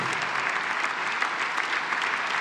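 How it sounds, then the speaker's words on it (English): An auditorium audience at a sustainability award ceremony applauds steadily, a dense, close wash of clapping that holds at even loudness throughout with no speech over it. "First, your applause."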